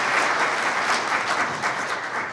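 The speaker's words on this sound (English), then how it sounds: "I'd like to get a round of applause for Nita for putting all this on and all the hard work" A crowd at a community awards ceremony in Lapeer, Michigan gives a round of applause, with steady, dense clapping throughout and no break.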